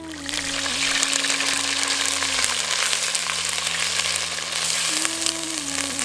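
Ginger garlic paste frying in hot oil in a pan for a village-style fish curry (meen kuzhambu): steady, dense sizzling and crackling heard close up, with a low tonal hum underneath and no voices.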